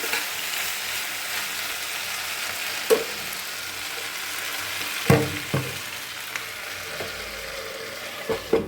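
Soya chunks stir-fried with spices in a pan for chili soya give a steady, close sizzle, with occasional louder scrapes and clatters of a spoon working the mix.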